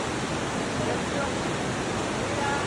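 The Aare river in Switzerland rushes along in strong flow, a dense, even roar of moving water filling the whole stretch without a break.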